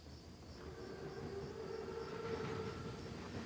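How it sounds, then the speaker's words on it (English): A massive armored Panzerzug train from the Call of Duty: WWII game rumbles past in a low, steady, faint drone, with a thin high metallic whine riding over the heavy rolling noise. "Train's right on time. Biggest train I've ever seen. Thickest armor, too. It's a Panzerzug."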